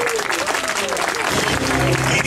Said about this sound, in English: clap your hands like you really mean it